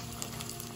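Tempering spices with fresh ginger, green chilli and cashews sizzle steadily in hot oil, a continuous close crackling fry with no talk.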